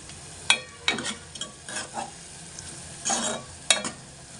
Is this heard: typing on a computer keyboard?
no